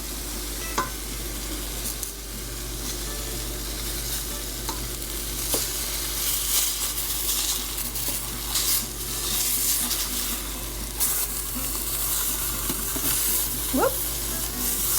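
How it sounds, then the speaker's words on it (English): Hamburger steaks in a hot pan give a continuous close sizzle, broken by scraping and clinking of a spatula as they are flipped, with faint talk at moments. "We're gonna flip these guys over."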